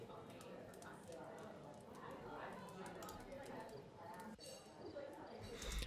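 A layered ambience sample of crackling fire, chirping birds and restaurant diners, with busy clatter and clinks under a murmur of indistinct voices throughout, fairly even in level.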